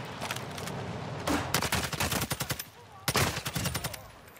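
Bursts of automatic gunfire ring out in the DMZ video game, two rapid volleys of sharp repeated shots with single cracks between, close and loud.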